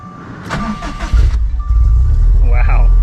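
A Subaru STI with a Q300 exhaust cranks and fires up, settling into a deep, steady idle, while people talk over the start.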